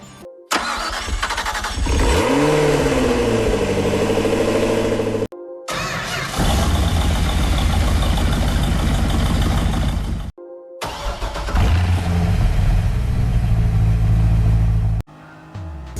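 Car engines in the video game Gran Turismo Sport start up one after another, each with a brief cranking whine before catching and settling into a rumbling idle, three starts in sequence.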